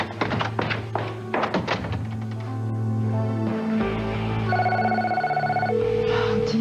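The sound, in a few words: telephone ringing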